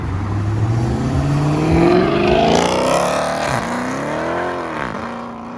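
A Dodge Hellcat widebody roars off at a Houston car meet, its loud engine note climbing through the gears as it pulls away, then fading slightly with distance.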